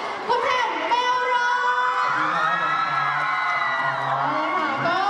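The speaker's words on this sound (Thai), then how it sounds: "ขอเสียงกรี๊ดและเสียงปรบมือ" An audience at a cosplay stage show screams and cheers in a dense, sustained roar of high-pitched voices, loud and continuous across the whole moment.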